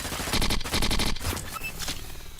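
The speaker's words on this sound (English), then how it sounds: "But it shoots so fast because it's an SMG." Harpy SMG in the video game Hyper Scape firing rapid automatic bursts, two dense volleys close together followed by a shorter trailing burst and fading echoes, loud and up close with no voices.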